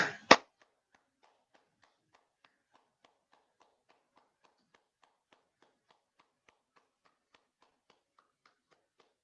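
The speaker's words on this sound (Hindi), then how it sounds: "ताली बजा दे।" A single sharp burst of hand clapping, close and loud, ending abruptly and followed by near-silence with faint scattered ticks.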